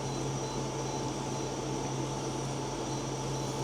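A Lidl SilverCrest portable air conditioner runs in aircon mode, giving a steady, close whooshing hum with a constant low tonal drone and no change over time.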